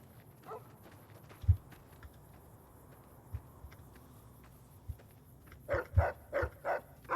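Dog barking in the game Fallout: New Vegas, a few scattered woofs early on, then a quick run of four or five barks near the end, with soft thuds and faint background ambience.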